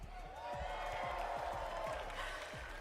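Crowd at a Fortnite FNCS championship event in Copenhagen cheering and roaring in a sustained, loud wash, with a voice calling out briefly over it.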